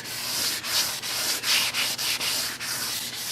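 Rhythmic, close-up sanding strokes on primer over a rusty Chevrolet Suburban body panel, a steady raspy scrubbing broken by short pauses between about eight repeated back-and-forth passes, with no voices.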